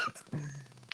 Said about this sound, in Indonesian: Udah sampai batuk.